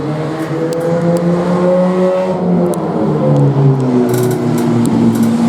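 Race cars at speed on an oval track, several engines droning loud and steady with pitches sliding as they lap, a continuous layered roar heard from nearby trackside.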